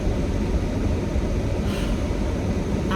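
Car heater fan blowing hard while the car warms up, a steady broadband rushing roar with low rumble, continuous and close throughout.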